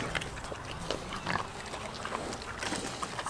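Pigs on a homestead grunting and squabbling at feeding time, a dense steady mix of close snorts and grunts with no talk.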